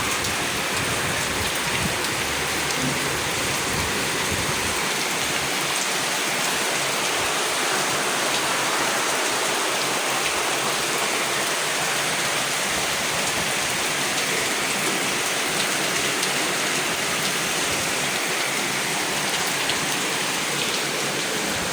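Heavy rain pouring continuously, a dense, loud wash of noise that stays constant throughout, close by and with no voices.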